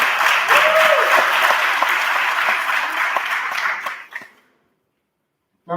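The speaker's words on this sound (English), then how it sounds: "Give them a round of applause as well." Loud, sustained applause from an audience at a university coronation ceremony, dense clapping that gradually thins and fades out, followed by a brief pause.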